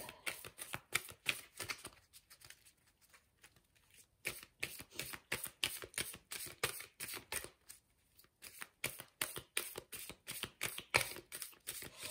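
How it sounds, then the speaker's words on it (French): Oracle cards are shuffled by hand in rapid bursts of crisp, papery flicks, close and fairly quiet, with brief pauses between rounds and no talk. "Je mélange les cartes."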